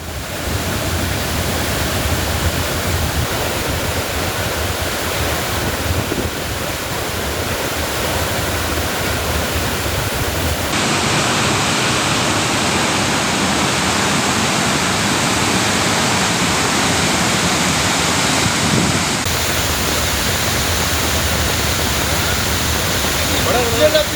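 Flash-flood water pours down Courtallam Falls in Tenkasi with a loud, steady roar. The dense rushing noise stays constant for the whole stretch, shifting in tone now and then as the view changes.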